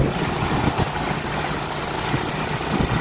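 A motorcycle engine idles with a steady low rumble and rough, even vibration that holds through the whole stretch, close and fairly loud with no talk over it.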